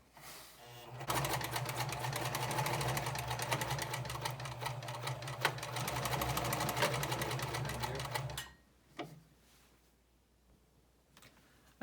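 A sewing machine stitches a zipper onto fabric in one long, fast, even run of rapid needle clatter up close, then stops, leaving a couple of faint handling knocks.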